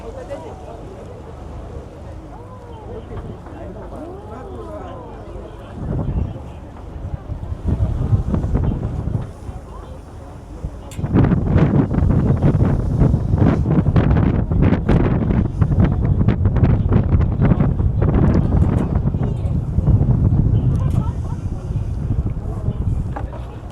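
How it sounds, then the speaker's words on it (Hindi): Cruise boat moving along a river in Shanghai: a steady engine rumble and water rush mixed with heavy wind buffeting the microphone, growing louder and rougher in the second half, with a voice talking over it early on. "ये अब हमारा क्रूज़ है, चल पड़ा है। और ये now we are in river।"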